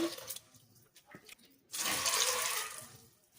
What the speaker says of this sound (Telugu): ఇప్పుడు వాటర్ పోసుకోవాలి